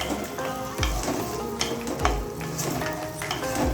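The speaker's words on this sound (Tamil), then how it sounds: "இந்த வெண்டைக்காயை போட்டு நல்லா பரட்டிக்கங்க." Okra stir-fries in a pan for a vendaikai gravy, a soft close sizzle broken by periodic scrapes and clinks of a spoon against the pan, with no voices.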